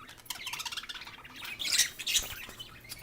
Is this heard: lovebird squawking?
yes